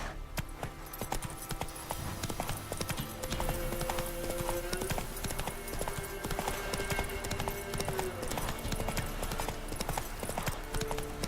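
Horse hooves galloping in The Witcher video game, a rapid, steady clip-clop rhythm running loud and close throughout, with faint tonal game sounds layered underneath.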